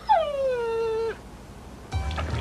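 An older male dog whimpers once in a long, drawn-out whine that slides downward and fades, followed by a short rustle; the cry is close and fairly loud, with no talking.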